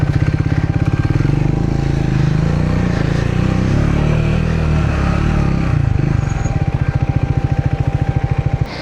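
A motorcycle on a high mountain road toward Gurudongmar Lake, its engine pulsing loud and close as it climbs, the steady throb swelling and easing, heard alone without speech.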